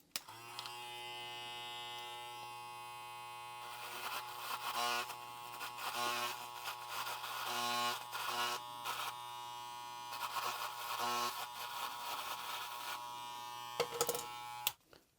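A Gamma+ Shorty electric hair clipper hums steadily up close, its motor buzz bogging and rasping in repeated bursts as it is pushed slowly through a brush, with no talking.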